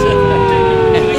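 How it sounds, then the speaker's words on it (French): A steady, loud siren tone holds throughout, with a sustained pitch and a busy background hum beneath it. "Et puis ils ont remis en route la sirène que j'aimais super bien."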